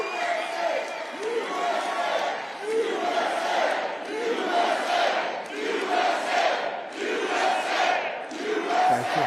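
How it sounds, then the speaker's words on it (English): A large crowd at a political rally cheers and chants in steady rhythmic waves of roaring voices, loud and continuous throughout. "What a nice crowd."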